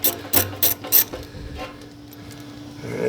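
A ratchet loosening a 1 7/16 bolt on a toolbox mount, four quick bursts of clicking close up, then a quieter mechanical pause.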